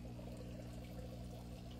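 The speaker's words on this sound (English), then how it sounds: "what's coming in here is very oxygenated water that's full of nitrate" Oxygenated, nitrate-rich water pours steadily into an aquaponics grow bed filled with clay pebbles, a continuous close splashing gush with no breaks.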